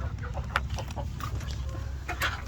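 Hens in a coop cluck softly in short scattered bursts over a low steady hum, faint and close, with no talk.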